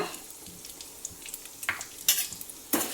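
Urad dal and fenugreek seeds fry in hot oil for homemade vangibath masala, a faint steady sizzle broken by a few sharp scrapes and clinks of a spoon against the pan.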